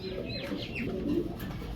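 Soft, low cooing from a fancy high-flying pigeon rolls on steadily for a couple of seconds, close by, with a faint brighter chirp or two above it.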